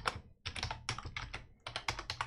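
Fast, steady typing on a computer keyboard close by while a Windows batch file is written, with bursts of rapid key clicks and brief pauses and no voices.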